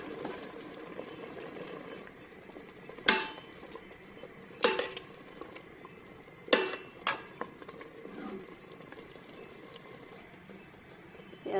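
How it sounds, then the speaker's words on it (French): A spoon stirs chorba soup with tomato purée in a pot, giving a few sharp metallic clinks against the pot over a quiet, steady simmer. "Je vais touiller."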